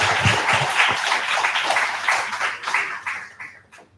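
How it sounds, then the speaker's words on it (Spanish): An audience applauds steadily at a university lecture, the clapping fading out toward the end. "Recibamos con un fuerte aplauso"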